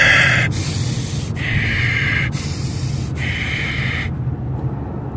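A voice imitates panicked breathing, with rapid, airy gasps and hissing breaths in quick succession, close and fairly loud over a low background rumble.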